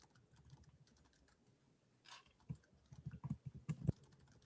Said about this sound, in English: Sorry if you can hear my clickety typing.